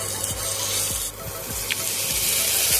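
Spice masala for Bengali chicken kosha frying over low to medium heat, sizzling steadily while a spoon scrapes through it in regular rhythmic strokes, close and clear.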